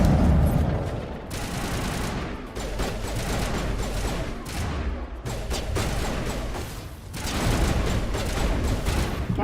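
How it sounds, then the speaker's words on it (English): Gunfire in Mass Effect Legendary Edition, a loud and sustained stream of shots with bursts that rise and fall, briefly pausing between volleys, with no clear talk. "My teammate's shooting me?"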